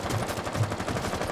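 Rapid bursts of gunfire crackle continuously, dense and fairly loud, like automatic weapons firing in Rainbow Six Siege, with no talking.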